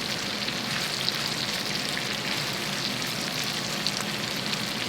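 Walleye fillets fry in a hot pan, a steady close sizzle and spatter that holds evenly without pause or voices.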